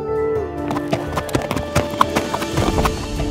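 Cartoon horse hooves clip-clop in a steady rhythm with a short whinny, upfront over a light music bed, with no talking.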